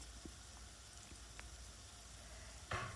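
Thinly sliced onions softening in oil for egg bhurji give a faint, steady low sizzle with a few soft ticks, ending in a brief louder scrape or stir.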